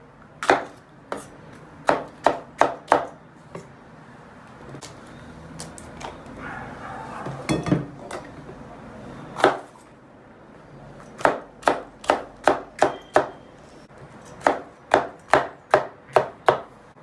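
A knife chops peppers steadily on a cutting board in quick bursts of sharp, crisp knocks, pausing midway before resuming a brisk rhythm.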